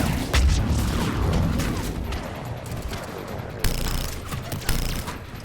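Dense, rapid gunfire from a Mass Effect 3 firefight keeps rattling without a break, with heavier impact bursts near 3.6 and 4.7 seconds over a loud, busy battle backdrop.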